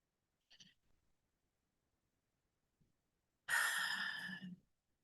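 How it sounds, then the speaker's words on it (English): A single long, deep breath is exhaled audibly and close by, following a short faint sound, in an otherwise quiet room. "Take a deep breath in."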